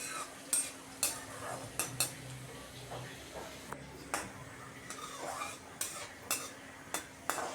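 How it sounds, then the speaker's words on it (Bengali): Chopped garlic frying in oil with black cumin and cumin, a soft sizzle under repeated sharp scrapes and clinks of a spatula stirring against the pan, roughly once a second. "রসুনটা দিয়েও কিছুক্ষণ ভাজবো যাতে রসুনটা ভাজা ভাজা হয়ে যায়"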